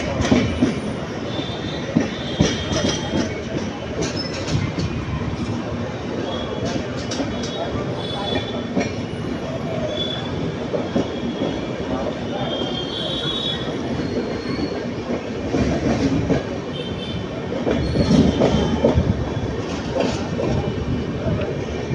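A passenger train on the Erode to Bangalore line rolls along the tracks with continuous rumbling, wheel squeals and clicking rail joints, heard from on board with people talking underneath.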